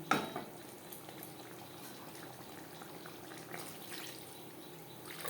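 Water poured into a pan of potatoes fried with spices for a fish curry, a soft continuous hiss and gentle bubbling with faint splashes, quiet and steady.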